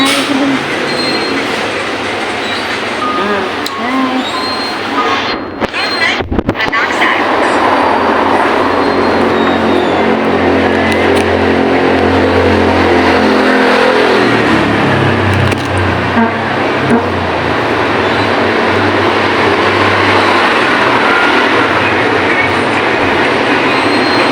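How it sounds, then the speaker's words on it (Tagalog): Heavy traffic rolls past on a nearby road in a loud, continuous rumble, with one vehicle surging closer partway through; no one talks over it. "Malapit kasi maingay dito kasi daanan siya ng mga sasakyan."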